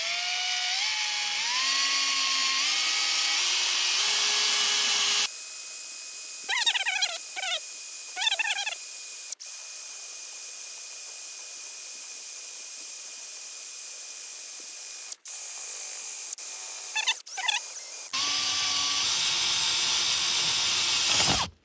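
An Aquatap Mach 1 hot tap drill cuts into a water pipe with a steady high whine, broken by quiet pauses and short ratcheting bursts, then the loud whine picks up again at the end.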